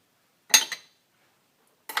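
A small spoon clinks against a dish while butter is added: a quick double clink up close, a silent pause, then one more clink.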